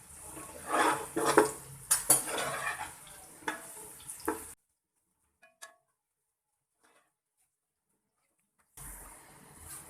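A spoon scraping and clattering in a pan of frying onions, irregular metallic knocks over a low sizzle, then near silence for several seconds before the sizzle returns; close and without speech.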